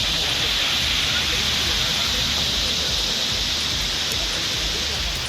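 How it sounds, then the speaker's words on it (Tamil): Heavy rain driven by wind over the Erode area, a dense, steady roar of downpour that stays loud and constant from start to finish, with no voices over it. "காற்றுடன் கனமழை வெளுத்து வாங்கியது"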